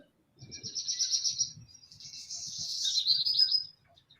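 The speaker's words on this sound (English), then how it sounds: "It's a bird." A bird chirps in two close, clear bursts of rapid high-pitched twittering, the second longer and more warbling, against an otherwise quiet background.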